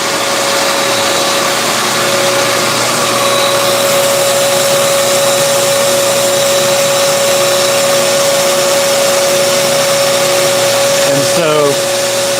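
A drill bores into a bowling ball with a 31/32 bit in a pro shop, giving a loud, steady whine that holds for the whole stretch with a brief shift near the end.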